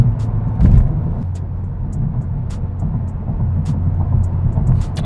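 A Honda Type R rolls over a bumpy road, heard from inside with a steady low road and engine rumble and scattered sharp knocks and thumps from the uneven surface.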